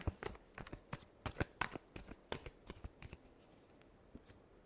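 Tarot cards being shuffled in quick, crisp bursts of riffling and snapping, close and fairly quiet with short pauses between flurries and no talk.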